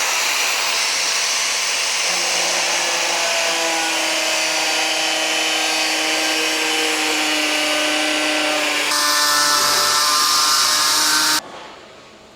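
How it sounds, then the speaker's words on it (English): A power tool grinds steadily and loudly while a motorbike engine is fitted to a Piaggio, with a high whine that slowly drops in pitch, then surges harder before cutting out abruptly and winding down. "I just grinded."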